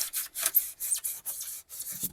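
A sharpened stainless steel tube punches holes, making short scraping, rasping strokes in an uneven rhythm of about eight bursts, close and crisp, with no voices.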